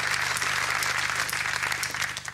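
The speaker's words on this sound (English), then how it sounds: "A round of applause for Joyce Winstanley." Studio audience applause at a television comedy show, a dense, sustained clapping from a sizable crowd filling the room evenly throughout.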